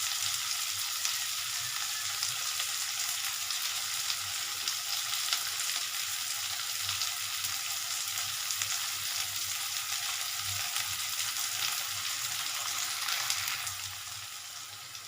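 Onions sautéing in a pan for a radish sambar, a steady close sizzle with faint stirring scrapes running throughout and no talk.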